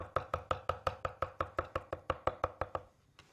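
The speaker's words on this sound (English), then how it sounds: "So with a knife, just chop it up like this." A knife chops squash rapidly on a cutting board, about fifteen even, sharp thuds in quick rhythm before stopping, close and clear with no talking.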